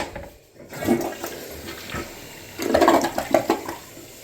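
A California water-saving toilet being flushed after repair work, a loud close rush of draining water that swells again partway through, then gurgles and refills steadily.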